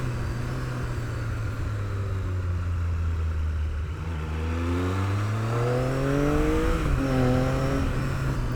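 Triumph Daytona T595 motorcycle engine rumbling low at first, then revving up through rising, smoother tones as it accelerates through the gears, steady and fairly close with no talking.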